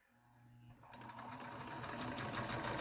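Sewing machine stitching a quarter-inch seam on a baby burp cloth, starting with a low hum and then settling into a rapid, steady, close mechanical chatter that holds to the end.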